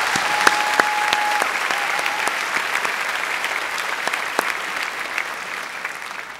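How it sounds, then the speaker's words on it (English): A graduation ceremony audience applauds retiring faculty, a steady wash of dense clapping from a large crowd that holds at even strength throughout, with a few sharper near claps and a faint tone sounding briefly early on. "Please join me in giving them a big round of applause and say thank you"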